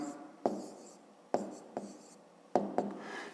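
Pen strokes scratch across paper while working a school maths exercise, with three short bursts of scribbling, each starting on a sharp tap, separated by near-silent pauses, close and fairly quiet.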